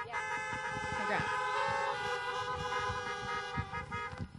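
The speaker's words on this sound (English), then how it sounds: "You're all getting very good at the honking." Many car horns from audience vehicles at a drive-in business awards ceremony honk together in a loud, sustained chorus of overlapping toots lasting several seconds, with a few brief taps near the end.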